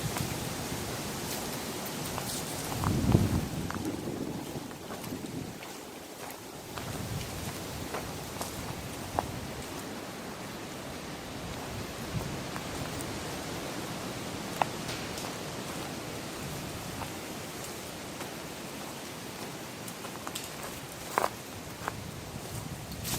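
Footsteps walking outdoors down a shooting range in windy conditions, soft irregular steps on ground under broad wind noise, fairly quiet and close, no speech.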